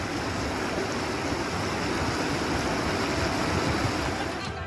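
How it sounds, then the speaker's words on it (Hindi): Floodwater rushing in Motihari, Bihar, after it swept away bridges and an embankment: a steady, loud, broadband roar with no let-up, like heavy surf or a torrent, continuous from start to end. "ये बिहार के मोतिहारी की तस्वीरें हैं, जहां बाढ़ का पानी कई पुलों और बांध को बहाकर ले जा चुका है।"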